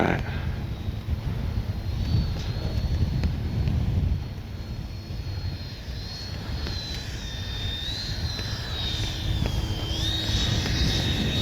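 A Freewing Yak 130 RC jet whines with a rising and falling electric ducted-fan pitch as it powers out after a bounced landing, heard against steady wind noise with a person talking nearby.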